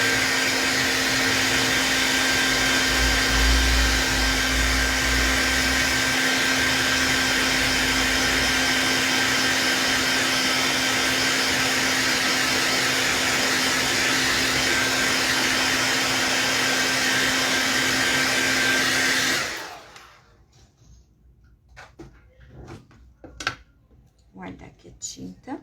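A hair dryer blows steadily on body paint covering a leg, a loud continuous whir with a humming tone that runs for about twenty seconds before switching off, leaving faint handling noises.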